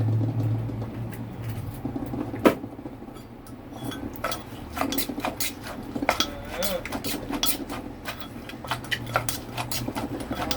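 Rhythmic pounding and clinking of papaya salad in a mortar, steady repeated knocks with utensil scraping, with faint background voices.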